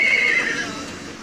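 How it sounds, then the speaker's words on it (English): A horse whinnies once, a high, bright neigh trailing off over about a second against steady background noise, somewhere just outside of Queens. "There's a horse over there."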